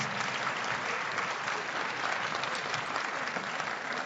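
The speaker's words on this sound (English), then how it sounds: "So give them a round of applause." Audience applause at a Martin Luther King Jr. birthday celebration event, a dense, steady clapping from a crowd that fills the whole stretch at even loudness with no talk.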